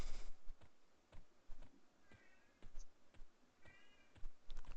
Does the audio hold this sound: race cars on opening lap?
no